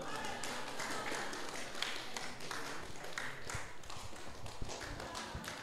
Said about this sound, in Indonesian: Kasih tepuk tangan untuk Akira dan dengan Fatir